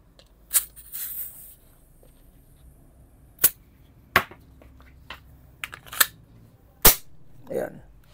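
A VFC SIG P320 gas blowback airsoft pistol fires a series of sharp, loud cracks spaced irregularly about a second apart, each a short snap, ending with a softer hiss as gas runs low.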